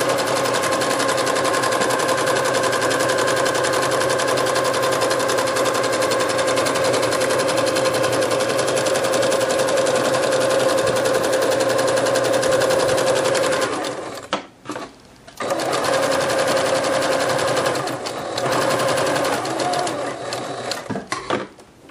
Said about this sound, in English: This is the quick, cut, and dry way to do this on your sewing machine.